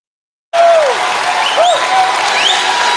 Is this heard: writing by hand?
no